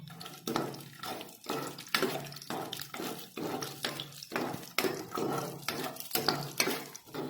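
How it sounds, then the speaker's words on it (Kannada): Cashews frying in hot oil in a kadai, with repeated stirring scrapes and clinks of a spoon against the pan over a steady close sizzle, no talk. "ಈಗ ಅದ್ರಾಗ ಇವು ಗೋಡಂಬಿಗೆ ಸ್ವಲ್ಪ ಫ್ರೈ ಮಾಡಿ ತಕ್ಕೊಂತೇನ್ರಿ."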